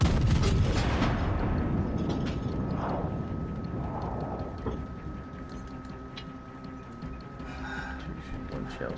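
Warship cannons in World of Warships Legends fire in booming salvos, with a rumbling, crackling battle bed beneath them and a player talking over the action.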